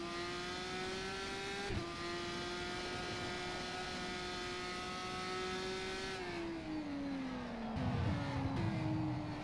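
A GP3 formula race car engine in rFactor 2 holds a high, steady whine, with quick downshift blips near two seconds and again late on as revs drop, alone and fairly loud.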